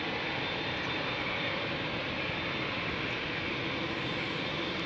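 Jet engines of an Air Canada Boeing 787 Dreamliner at Schiphol Airport give a steady, close, broad rushing roar that holds evenly throughout.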